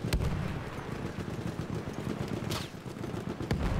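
Gunfire in the Battlefield video game: sharp, scattered shots crack out at moderate distance over a low rumbling battlefield backdrop, with a few distinct bursts spaced irregularly across the moment.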